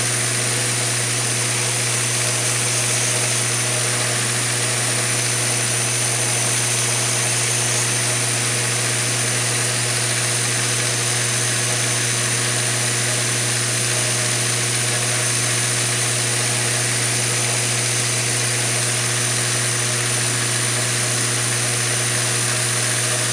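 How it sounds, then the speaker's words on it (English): A power tool grinds G10 knife handle material, producing a constant, steady high-pitched whine and hum that runs unbroken at an even level, close by and with no voices. "With the grinding all done"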